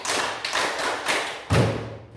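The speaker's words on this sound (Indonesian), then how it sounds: "Tepuk tangan dulu untuk Adi." Classroom applause for a student, a short burst of clapping with several rhythmic pulses, ending in a heavier thump before fading out.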